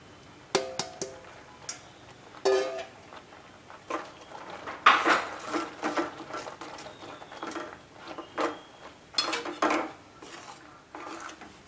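Crushed peanuts are stirred into sugar syrup in a pan for a groundnut sweet, giving irregular scrapes, knocks and clinks of a spoon against the pan, fairly close and unaccompanied by talk.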